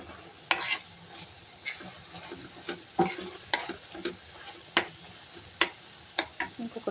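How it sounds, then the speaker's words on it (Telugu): Spinach and garlic fry in a pan with a steady low sizzle, broken by regular sharp spatula taps and scrapes roughly every half second, close and fairly loud, with no voices. "ఇంకొక 2 మినిట్స్ ఫ్రై చేసుకుందాం"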